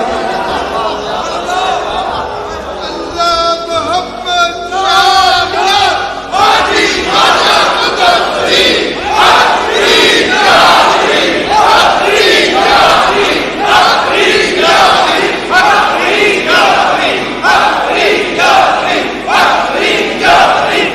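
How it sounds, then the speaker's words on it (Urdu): A large crowd at the Data Darbar shrine loudly chants religious slogans in praise of a saint. The chant rises in rhythmic, repeated call-and-response bursts that carry on throughout, over a dense, close roar of voices. "داتا کی بارگاہ میں بابا کے نعرے لگ رہے ہیں"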